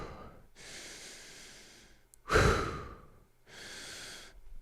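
A voice imitates breathing with long, soft, airy exhales and inhales in a steady alternating rhythm, close to the mic and quiet, with one sharper, louder breath in the middle.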